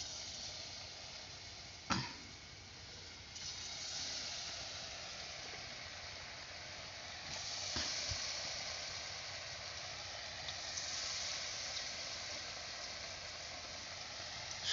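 Potato pieces dusted with chili powder sizzle in hot oil, a steady broad frying hiss. The hiss swells slightly with a couple of sharp crackles as more pieces drop in.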